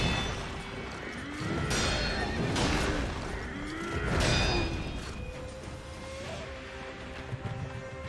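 Stock neighing of a horse from the game Sekiro rises in repeated loud whinnies over a dense rumble of hooves and clatter, then trails off into quieter background noise.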